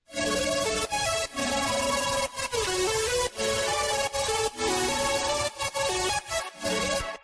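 Clicky synth with a hyper effect and multiband compression plays a bright, dense stacked-harmonic pattern in a steady rhythm, loud and sustained with brief rhythmic gaps, no voices.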